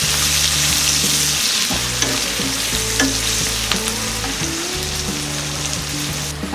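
Chopped onion and asafoetida hit hot oil with mustard seeds in a pan, giving a loud, continuous sizzle and crackle with stirring scrapes, close up and with no one talking.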